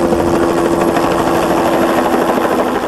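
A helicopter flies overhead during field work capturing wild deer, its rotor and engine roar loud, steady and continuous throughout, with no talking.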